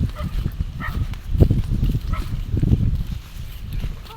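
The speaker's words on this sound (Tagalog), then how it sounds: "Sinasalubong na po kami nung dalawang aso." Two dogs come up to greet people outdoors, with excited barks and yips mixed with shuffling movement and rustling close by. The sounds come in uneven bursts.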